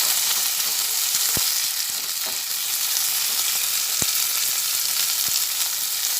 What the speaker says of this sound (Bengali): এর মধ্যে কিছুটা কুচানো পেঁয়াজ রেখেছি সেটা দিয়ে দিলাম তারপরে পেঁয়াজটা ভালোভাবে ভেজে নেব